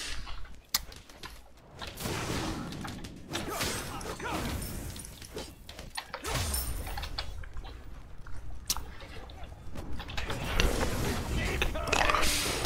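Someone chews food close to a microphone during a ranked Smite duel, with wet crunching and creaking mouth sounds coming in irregular bursts over low background noise.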